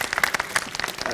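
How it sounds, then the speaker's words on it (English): Audience applause rises at a televised special event, a short burst of many hands clapping at once, fairly close and dense, with no voices over it. "So how about a big round of applause?"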